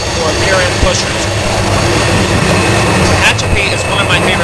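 A freight train with helper locomotives rumbles through the Tehachapi Loop, a loud steady roar of engines and rolling wagons with a brief horn-like tone near the end, heard close and continuous.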